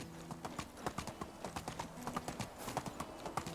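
Donkey hooves clip-clop in the medieval video game Medieval Dynasty, a quick, steady rhythmic patter of soft hoof strikes, close and fairly quiet.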